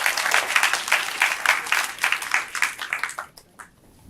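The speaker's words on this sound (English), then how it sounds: "Can we give them a round of applause?" A conference audience applauds warmly after an introduction, a dense burst of clapping that thins to a few last claps and dies away.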